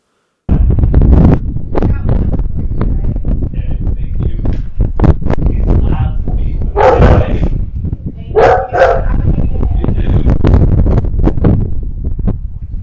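Guard dogs bark loudly and close by at a rural house, a steady, dense run of barks with no pauses.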